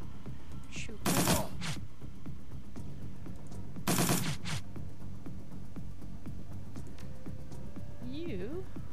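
Gunfire in Shadowrun: Dragonfall, two short rapid bursts of crackling automatic shots a few seconds apart, moderately loud over a quiet game backdrop, with a wavering electronic tone near the end.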